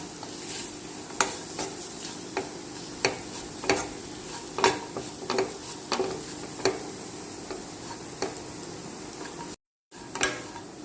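Spice powders for beef curry frying on low heat in a pan, a soft steady sizzle punctuated by regular scraping strokes of a spoon stirring, about one every half second, close and fairly quiet with no talk.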